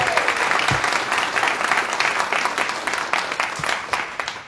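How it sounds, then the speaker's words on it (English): A room at a community town hall meeting breaks into sustained applause for a college president, dense clapping that holds steady and then gradually tapers off. "Round of applause, por favor."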